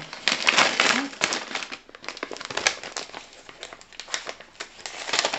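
Close, crinkly rustling and crumpling of wrapping paper being unwrapped from an Advent calendar gift in irregular bursts, with faint quiet voices around.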